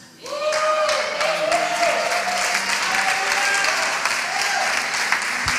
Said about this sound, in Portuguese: Forte esse aplauso